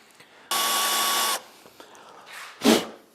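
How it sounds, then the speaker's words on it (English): A cordless power drill bores out a part of a VW Beetle axle, a single loud steady whine lasting just under a second, followed by quieter handling noises and a short metallic scrape. "we'll carry on just drilling this out"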